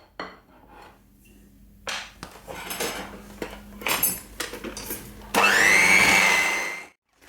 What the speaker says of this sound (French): je vais la fouetter donc environ,